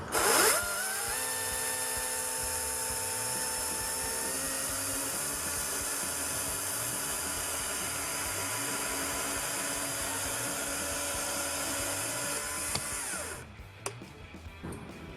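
A chainsaw cuts through wood in a steady, sustained high-revving whine at an even pitch, running continuously for about thirteen seconds before the engine drops away and stops.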